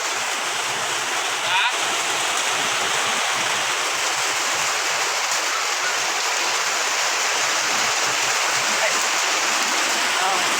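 Rain pouring down in a countryside setting, heard as a dense, steady hiss that stays even and close for the whole stretch.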